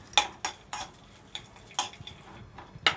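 Cashew pieces, raisins and almonds stirred in hot ghee in a pan, a handful of sharp, separate clinks and scrapes of a spoon against the metal, fairly close, with quiet gaps between them and no talking.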